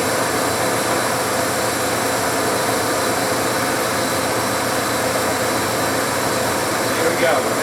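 A Clausing 1250 Magnum 25" x 118" lathe runs steadily at 400 RPM, giving a continuous, even mechanical hum and whir with no notable change in level throughout.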